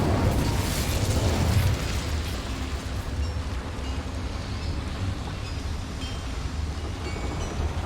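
A fire spell cast in Hogwarts Legacy bursts with a whooshing blast that fades into a sustained, rumbling crackle of flame, dense and fairly loud throughout.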